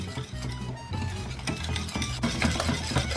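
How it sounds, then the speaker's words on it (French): Whisk energetically stirring eggs, sugar and flour in a bowl for a flan batter, a quick, rhythmic scraping and clinking close by, with no talk. "On va y mettre tout de suite, hop, la farine, et nous allons remuer une nouvelle fois bien énergiquement"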